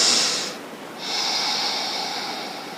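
Two strong breathy exhales through the nose or mouth during a foot exercise, close and clear, the second longer than the first.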